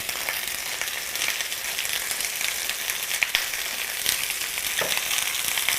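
Chicken pieces searing skin-side down in a single pan for chicken cacciatore, a loud, steady, crackling sizzle throughout with occasional sharper pops and no talk.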